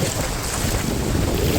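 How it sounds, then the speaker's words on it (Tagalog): Powerful river water rushes during a crossing of the Piapi river at Sitio Piapi, Mauban, Quezon, as a loud, dense roar mixed with heavy wind buffeting on the microphone and no voices. "Malakas ng agos."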